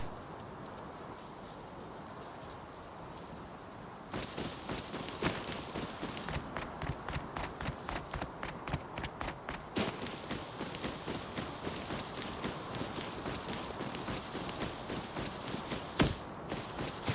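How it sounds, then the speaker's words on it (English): Footsteps in the video game Rust: after a stretch of steady ambient noise, a regular rhythmic pattern of steps begins and continues at an even pace, moderately loud over the background wash. "I hear feet. Is it my own feet?"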